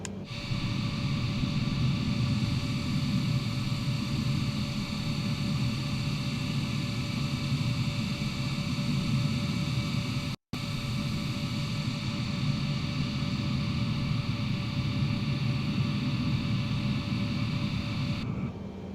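A Boeing 787-10 in Emirates livery slowly taxiing at Dubai in Microsoft Flight Simulator 2020 gives a steady low engine hum with a constant high whine, unchanging throughout apart from one brief dropout.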